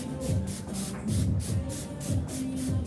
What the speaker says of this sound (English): I always like to finish with a texture spray